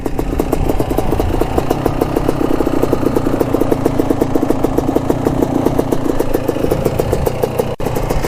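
A Kawasaki Tecate 4 250cc two-stroke quad idles steadily and close, a busy, rapid ticking rattle that holds even throughout, with one brief dip near the end.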